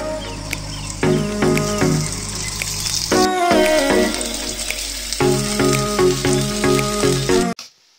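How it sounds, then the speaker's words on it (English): Richmond meat-free bacon sizzles in a frying pan with a steady, close crackling hiss, largely under loud background music. "So let's get it on the frying pan and do a taste test."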